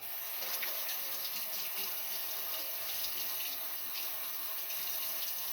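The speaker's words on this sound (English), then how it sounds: "Wash my hands." Water runs steadily from a sink tap while hands are washed, a constant close splashing hiss with no talk.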